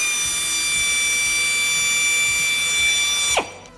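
A power drill whines steadily while it twists electrical cables for a tow hitch wiring kit on a 2021 Renault Arkana. The motor runs loud and close, then spins down sharply at the end.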